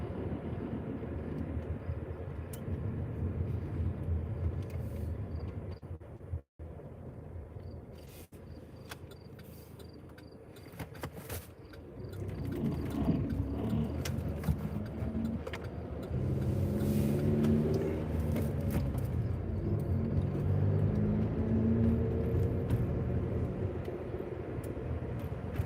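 A car creeps slowly through a trailer court, heard from inside as a steady low engine and road rumble that swells slightly partway through, with brief knocks and rattles, no talking.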